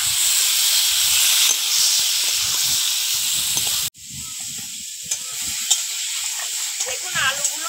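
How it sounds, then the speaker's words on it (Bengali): Vegetables stir-fried in a pan, with potatoes among them, a loud continuous hiss and sizzle that briefly cuts out midway and then resumes with occasional clinks and scrapes. "এবার সবজিটা একটু কষিয়ে নেব"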